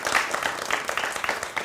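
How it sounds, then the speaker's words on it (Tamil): An audience gives a short burst of scattered clapping, fairly soft and brief, with a little talk mixed in. "ஒரு ஸ்பெஷல் கைத்தட்டல் கொடுக்கலாம் எல்லாத்துக்கும்."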